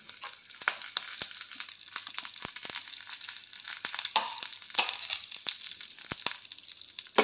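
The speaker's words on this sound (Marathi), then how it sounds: "हे सर्व चांगलं परतून घेऊया तेल तुपामध्ये" Urad dal, cashews and peanuts fry in hot oil and ghee in a pan, giving a soft continuous sizzle dotted with sharp crackles and pops, quiet and close with no talking.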